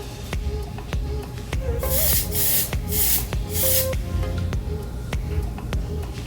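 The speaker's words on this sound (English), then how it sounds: "give my sides of my face a nice light spray" Several short hissing bursts of setting spray misted onto a face, close and soft, over a low steady background hum.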